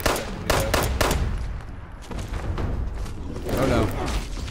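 Game gunfire in Fallout 76 crackles in several sharp, close bursts spread through the clip, mixed with thuds and a busy game background, with talk partly overlapping.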